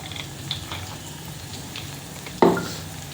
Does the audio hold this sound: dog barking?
no